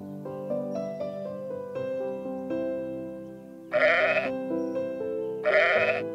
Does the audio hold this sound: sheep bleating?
yes